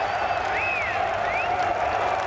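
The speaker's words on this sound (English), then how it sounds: "Just listen to that crowd." A golf crowd at The Open at St Andrews keeps up a continuous din of applause and cheering, broad and sustained, with a couple of rising whistles sliding over the noise.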